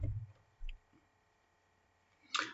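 A deck of tarot cards is cut in a quiet room, with a faint tick or two and then a brief, crisp papery snap of cards at the end.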